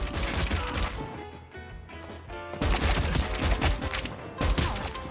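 Enemy gunfire rattles in dense automatic bursts in COD Mobile multiplayer, loud and close, pausing briefly before resuming in heavy volleys.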